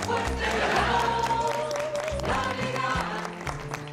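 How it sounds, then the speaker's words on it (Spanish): A studio audience applauds on a television variety program, a broad wash of clapping and crowd noise over music. "aplaudan, chicos, aplaudan"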